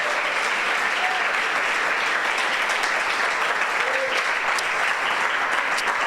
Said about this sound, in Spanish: Démosle el aplauso si quieren al Señor en esta hora.